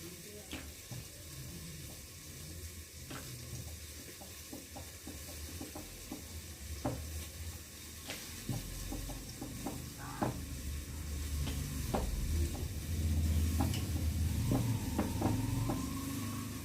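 Potato curry for a vegetarian aloo dum being sautéed in a pan, a low continuous sizzle with scattered scraping and stirring clicks, some watery clatter nearby, and the frying growing a bit fuller later.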